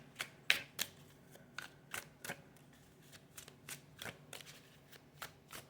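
An oracle card deck is shuffled by hand in a quiet room, making a series of crisp, close riffling snaps and soft card slaps at an irregular rhythm.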